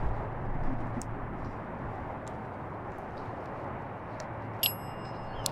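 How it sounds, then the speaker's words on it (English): A small hand bell rings in La Concordia Cemetery during a ghost hunt: one faint but clear metallic ding near the end, with a few tiny pings earlier, over a quiet, steady outdoor hiss. "Can you ding that bell if you're comfortable?"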